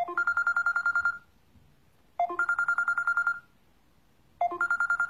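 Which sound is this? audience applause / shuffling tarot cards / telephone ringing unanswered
telephone ringing unanswered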